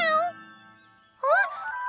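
A cartoon cat meows in an animated children's show, with one short drawn-out mew followed after a pause by a louder, higher meow, near and clear.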